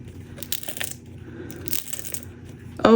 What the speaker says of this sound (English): the sound of a crystal edge